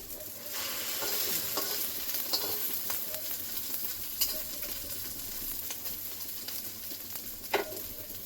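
Small egg omelettes frying in a pan for a Bengali egg recipe, a continuous close sizzle with occasional utensil clicks and scrapes scattered through, no voices.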